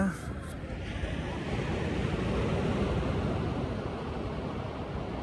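Water running off a beach in the United States, heard as a steady low rushing wash with surf-like noise throughout, fairly faint and continuous with some wind on the microphone.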